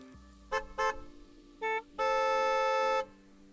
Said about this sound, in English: you're going to hear horns going off left, right and centre